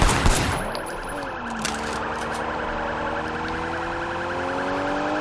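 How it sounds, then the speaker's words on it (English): A police car siren from the Sleeping Dogs game wails in loud, continuous rising and falling sweeps over a steady rumble of driving, with a few sharp clatters near the start. "I don't know how to turn off the siren."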